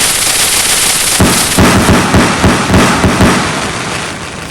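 Rocket firecrackers burst for Diwali inside the Indian Bike Driving 3D video game, a loud crackling barrage of rapid repeated pops in a steady rhythm that slowly fades toward the end.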